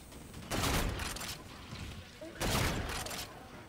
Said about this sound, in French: Petit fusil balistique, j'aime bien cette arme.